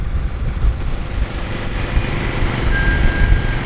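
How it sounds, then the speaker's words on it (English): Early production Saab 96 saloon with a three-cylinder two-stroke engine running at a classic car show, a steady buzzing, rattly drone held at close range without pause. "this is the 96 saloon with a 3-cylinder 2-stroke engine, awesome sounding car"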